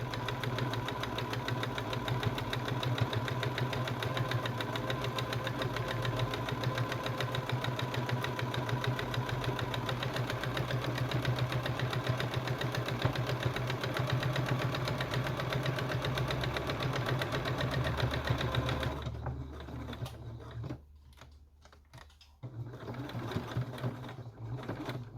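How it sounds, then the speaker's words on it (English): A sewing machine runs continuously close by, stitching along the edge of a fabric apron with a fast, even mechanical hum that stops near the end and starts again briefly. "and I'm just sewing the edge."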